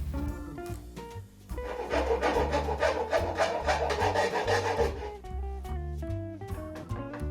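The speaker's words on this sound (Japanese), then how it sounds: "ニッパで切ってからヤスリで削り落とします。" A hand file rasps away the cut-off tip of a thin finish nail poking through cedar lath strips on an old Japanese farmhouse wall, steady back-and-forth scraping strokes close up, with a brief pause before a denser burst of rubbing.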